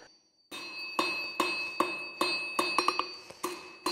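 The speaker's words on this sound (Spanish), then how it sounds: "se trata de estirar el acero a base de golpes continuados sobre la pieza al rojo vivo" Rapid, repeated hammer strikes on red-hot steel ring out with a bright clanging tone, about a dozen blows in an uneven rhythm, close and loud, forging hand sheep shears in an old smithy.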